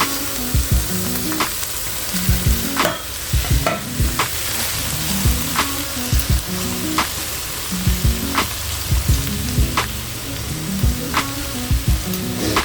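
Rice frying in ghee in a pot for seafood biryani, a loud, close, continuous sizzle with regular spatula scrapes and stirs every second or two.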